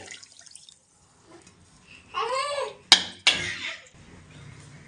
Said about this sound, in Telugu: ఇంకో కప్పు వాటర్ కూడా పోస్తున్నాం